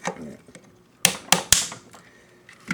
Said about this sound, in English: take the connector and bring it up with that nice clicking sound